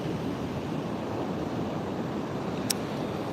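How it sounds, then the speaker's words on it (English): Ocean surf washes steadily onto a sand spit beach near Morro Bay on California's central coast, a continuous, even roar with wind noise against the microphone and no clear breaks between waves. "Bringing you guys the ocean, the beach over in California"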